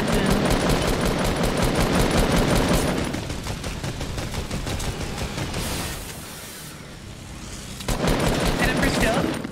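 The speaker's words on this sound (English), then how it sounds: "He's shooting at us." Gunfire during a late-game Fortnite Battle Royale fight near a mansion, with loud, dense automatic bursts and rapid shots that continue almost without a break and briefly ease off near the end.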